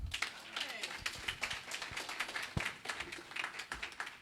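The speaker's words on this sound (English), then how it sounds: "Y'all give her one more round of applause." At a men's Christian meeting in Beaumont, Texas, a small audience claps irregularly and fairly close, with sharp individual claps and stomps over a muffled room, with a few voices underneath.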